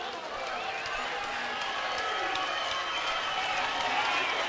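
A home crowd at a boys' varsity high school basketball game between Lorain and Elyria keeps up a continuous roar of cheering and clapping, with talk over it throughout.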